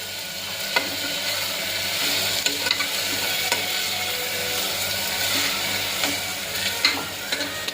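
Vagharela khichdi being stirred in a pan, a continuous scraping stir over steady sizzling and frying, close and fairly loud with no talking.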